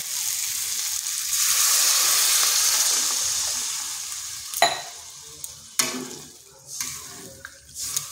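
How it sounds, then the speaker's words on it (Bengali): Water poured into a hot fried spice paste for a vegetarian papaya dish sets off a loud, rushing hiss that slowly fades, followed by sharp spoon knocks and quieter stirring, with no one speaking. "কষানো হয়ে গেছে, এখানে দিয়ে দিচ্ছি জল"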